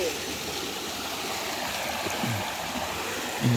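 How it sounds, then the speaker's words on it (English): Steady rushing of the River Morn flowing through a nature reserve near Mansfield, a continuous broadband wash of water close by, with faint voices briefly surfacing near the end. "this is definitely the River Morn"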